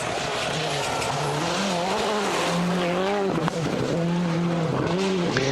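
Rally car on a 2005 Rally Finland gravel stage driving on a punctured wheel, engine loud and continuous with wavering revs, gear changes and tire scrub, close and steady throughout.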